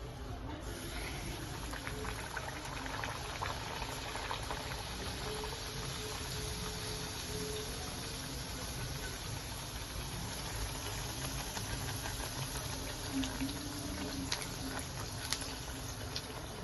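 Chana dal kochuri fries in hot oil, giving a steady, dense, close sizzle and bubbling patter that holds evenly throughout.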